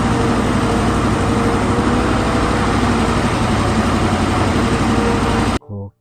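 A wheel loader engine runs steadily at idle with a loud, continuous low rumble for about five seconds, then cuts off abruptly; a short burst of talking follows.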